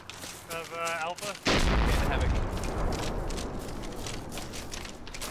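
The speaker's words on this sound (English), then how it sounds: "I can hear PKT firing west" Heavy PKT machine-gun fire in the military game Arma 2 comes as a loud, sustained booming roar after a short tonal radio-like voice, with rumbling echoes continuing throughout.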